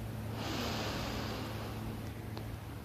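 A single slow, deep breath drawn close to the microphone, a long steady airy rush lasting a couple of seconds over a low background hum, with no talking.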